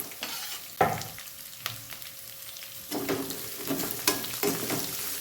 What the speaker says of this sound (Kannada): ಹಸಿಮೆಣಸಿಕಾಯಿ ಸ್ವಲ್ಪ ಫ್ರೈ ಆದಮೇಲೆ ಇದಕ್ಕೆ ನೋಡಿ ಹೆಚ್ಚಿಟ್ಕೊಂಡಿದ್ನಲ್ಲ ಈರುಳ್ಳಿ ಇದನ್ನು ಸೇರಿಸ್ತಾ ಇದ್ದೀನಿ